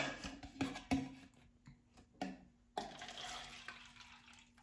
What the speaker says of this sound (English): Now, I'm going to put some water in the positive emotion cup.